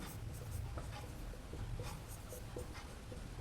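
Pen writing on paper during a Hindi-language Class 8 mathematics lesson on rational numbers, a steady run of soft scratchy strokes close to the microphone over a low background hum, with no talk.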